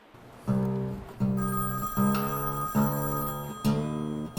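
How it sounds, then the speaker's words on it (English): A telephone at a music center in Bangor rings in a steady repeating pattern of five bright electronic trills, close and clear with no speech. "The phone never seems to stop ringing"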